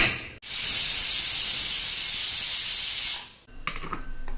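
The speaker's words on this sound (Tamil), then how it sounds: "விசில் போட்டுக்கலாங்க ஒரு நாலு விசில் விட்டு" A pressure cooker holding drumstick greens and lentils lets off a whistle of steam, a loud continuous hiss lasting about three seconds that stops abruptly, followed by faint clinks and rustling.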